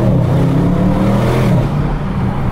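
An Audi RS6 engine heard from inside with the windows open, a loud low rumble that rises slightly in pitch, then eases off toward the end.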